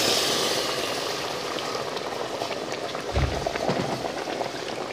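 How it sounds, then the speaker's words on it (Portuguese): Hot water pouring into a pan of chicken and quinoa on the stove, a steady watery rush with bubbling and sizzling throughout and a brief low splash partway through. "Completo com água quente."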